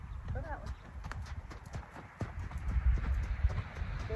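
Tennessee Walking Horse hooves thudding on soft ground during a canter, a loose uneven rhythm of dull impacts building louder toward the end, with a person talking throughout.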